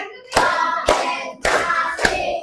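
Elementary schoolchildren in a fifth-grade classroom clap in unison, four sharp, evenly timed group claps close by, with young voices sounding between the beats.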